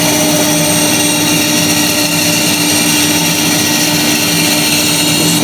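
A bandsaw runs steadily while cutting curves through wood, a loud, continuous mechanical whine with a constant tonal hum that holds unchanged from start to finish, no voices present.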